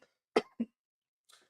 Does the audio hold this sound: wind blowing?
no